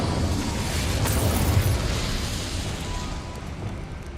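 The Incendio fire spell cast in Hogwarts Legacy roars out as a dense, continuous whoosh of flame with a deep rumbling low end, loud and close, slowly fading over a few seconds.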